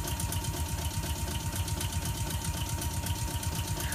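Air compressor on the rear car of a New York City subway BRT BU gate car train in the OpenBVE simulator, a steady rhythmic mechanical chugging drone running continuously with no talk.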